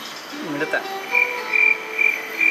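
Frogs and crickets call together on Sentosa, Singapore: a steady high trill pulses in regular bursts while lower croaking notes sound nearby.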